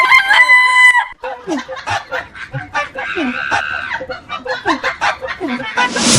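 A rooster crows loudly up close, then chickens cluck in rapid, uneven bursts, with a brief rustle at the end and no clear talking.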